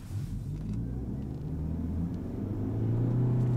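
Mitsubishi Eclipse Cross hybrid with a single gear accelerating, a steady rising engine and motor drone with road rumble that climbs without any shift break, heard from inside and growing slightly louder.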